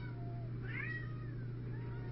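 A cat gives a single, faint, drawn-out meow at feeding time over a steady low hum, with no talking.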